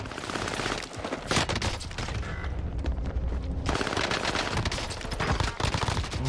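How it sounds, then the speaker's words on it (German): Rapid, dense gunfire in the video game Warzone, overlapping automatic bursts and cracking shots crowding together close and loud with almost no pause, alone without talk. "Da hinten wird scharf geschossen."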